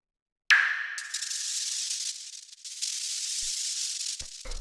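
Two small effect sounds from a deep minimal house track: a sharp high attack followed by a sustained hissy, airy noise texture that holds steady for several seconds, faint and alone, ending with a few low thumps.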